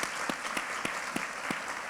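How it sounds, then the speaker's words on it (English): An audience applauds three women leaders from Sacramento city and state government with steady, dense clapping. It sounds fairly faint and distant, with a few sharper individual claps standing out and no voices over it. "round of applause for these three incredible women"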